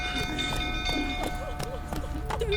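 Horse hooves clip-clop at a steady walking rhythm in The Witcher 3 video game, the regular clops sitting close under a constant tonal music bed.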